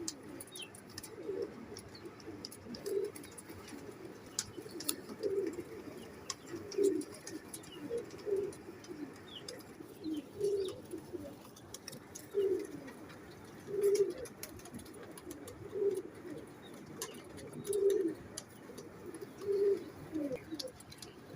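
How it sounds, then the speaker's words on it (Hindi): Tedi pigeons cooing nearby: soft, low, rounded coos repeat in a steady pattern roughly every one to two seconds, with faint higher chirps and light background noise around them. "ये चौधरी सफ़ी साहब वाली ब्लड लाइन से कबूतर हैं।"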